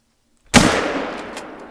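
A single .243 rifle shot in The Hunter: Call of the Wild, a sharp loud crack after near silence, followed by a long decaying echo and a couple of faint later clicks.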